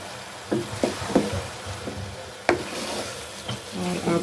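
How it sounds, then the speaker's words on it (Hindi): Chopped onions and tomatoes stirred in a cooking pot for a chicken handi, giving soft irregular scrapes and clinks with faint sizzling underneath, fairly quiet and close. "इसमें डाल के अच्छी तरह इनको मिक्स करेंगे"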